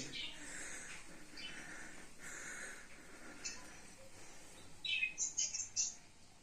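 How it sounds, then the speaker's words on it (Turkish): Faint background murmur and shuffling, then a burst of high, quick bird chirps near the end. "Bir de kuş sesi geliyor."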